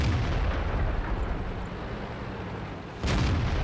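A tank gun firing in World of Tanks, a loud booming blast that cuts in sharply near the end over a dense, rumbling battle din.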